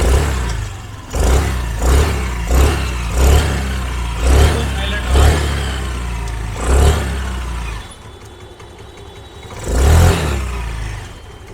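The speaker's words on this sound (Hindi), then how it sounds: "वैसे इंजन का साउंड बहुत ही बिल्कुल लाइट हो चुका है पहले के अकॉर्डिंग" A Honda Activa 5G scooter runs just after a service, its engine nearby and repeatedly revving in short bursts over a steady idle, with a lull before one final rev.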